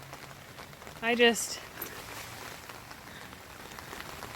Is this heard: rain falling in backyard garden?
yes